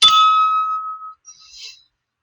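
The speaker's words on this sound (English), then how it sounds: "I'm going to go ahead and ring my bell" A meditation bell is struck once, and its clear ringing tone fades over about a second. A brief, faint high shimmer follows. No one speaks.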